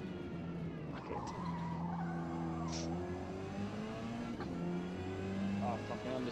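Touring car tires squealing through an understeering corner in Forza Motorsport, engine revs rising and falling under the screech, with a player talking over the game audio.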